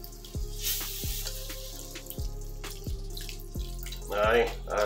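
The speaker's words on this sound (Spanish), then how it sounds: "Y le echamos más leche." Milk is poured into croquette dough for ham and egg croquettes in a soft, steady liquid trickle. A regular low rhythmic knocking runs beneath it and a brief sizzling splash comes near the end.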